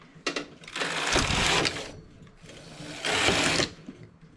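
Carriage of a domestic knitting machine with a ribber slides across the needle bed in two long rasping clattering passes, close and loud, with brief quieter clicks between strokes.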